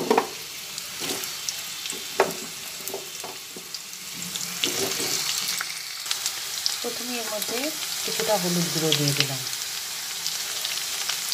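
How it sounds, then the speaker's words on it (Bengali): Potatoes frying in hot mustard oil with turmeric and salt, a steady close sizzle punctuated by stirring clicks and scrapes, while someone talks over it. "আলুগুলো প্রথমে দিয়ে ভেজে নিচ্ছি"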